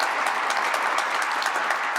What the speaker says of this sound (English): thank you so much for your kind applause and thanking our speakers